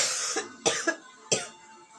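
A person with a lingering cough lets out three or four short, close coughs spaced irregularly over a couple of seconds, with quiet pauses between them.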